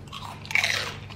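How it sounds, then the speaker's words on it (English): A bite into a crunchy Chinese food snack during a takeout meal gives one brief, close crackling crunch and then a short spell of chewing, with no talking. "I'm gonna have a crunch."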